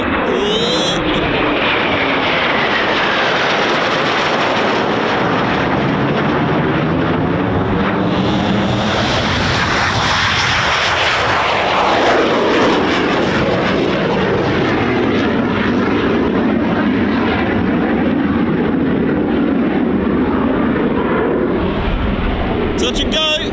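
A Eurofighter Typhoon FGR4 fighter jet roars through a touch and go at RAF Coningsby, its loud engine rising and sweeping past with a Doppler-like pitch shift, a thunderous continuous blast with voices faintly underneath.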